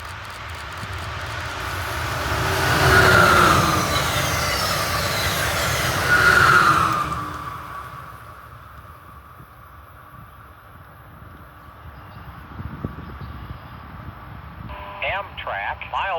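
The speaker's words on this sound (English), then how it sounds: "Amtrak 670 is making good time east after its station stop, as it continues on east toward Parkersburg and Philadelphia" Amtrak 670, an eastbound passenger train, rolls past on former Pennsylvania Railroad track, a broad rumbling roar with two swelling peaks that fades away into quiet wind noise.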